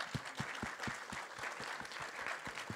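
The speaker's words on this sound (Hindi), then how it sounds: "ताली मार के दिखाओ" Audience at a trailer launch for the film Uunchai clapping steadily, with dense overlapping hand claps at an even pace filling the room from start to finish.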